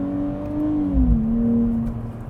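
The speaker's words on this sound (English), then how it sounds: "I think it's a nice, smooth 6-cylinder sound" A 2024 Nissan Z NISMO six-cylinder engine blips and revs during a downshift, a smooth, steady drone that rises and falls once over a couple of seconds, heard close from inside the car with no talking.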